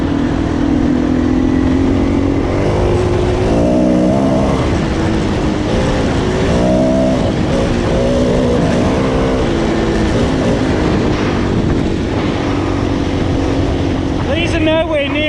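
A brand-new 2019 Suzuki DRZ400 single-cylinder motorcycle under way, its engine droning and rising through revs with loud wind rush throughout and a shift of pitch partway.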